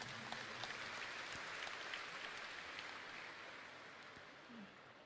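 Audience applause at an Isra' Mi'raj religious gathering, a continuous patter of many hands clapping, fairly soft and distant in a large hall, fading slightly toward the end.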